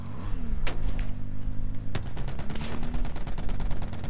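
Call of Duty Black Ops 4 gunfire: rapid automatic bursts and single loud shots crack over a dense game soundscape, with a sustained engine-like drone underneath and no talking.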